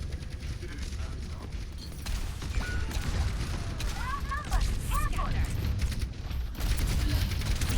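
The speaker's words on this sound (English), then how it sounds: "Ah, the chain gun sniper." Chain gun fire in the Overwatch video game, rapid bursts of mechanical gunfire and impacts building over several seconds amid game effects, under a player's talk.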